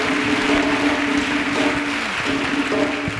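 A church congregation applauding for Jesus Christ, steady dense clapping filling the room throughout, with faint voices and tones beneath.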